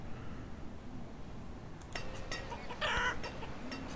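Chickens in the village-building game Banished cluck in short, soft bursts over a quiet background hum, clustering toward the second half.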